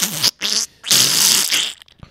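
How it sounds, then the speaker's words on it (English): A loud, close fart in several wet, sputtering bursts, the longest lasting about half a second, with short gaps of quiet between them. "Now I got to fart."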